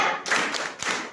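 A classroom group performs a tepuk semangat spirit clap during a science lesson simulation, giving a quick burst of rhythmic, close hand claps with a few dull taps and thuds mixed in.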